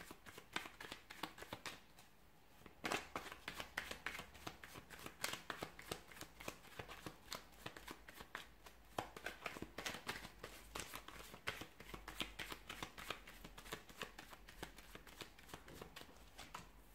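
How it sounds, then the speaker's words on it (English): Tarot cards are shuffled by hand in a quiet room, giving a soft, continuous run of riffling and flicking sounds with brief louder snaps, close and alone without talk. "give the cards a shuffle and see what is their next move towards you here."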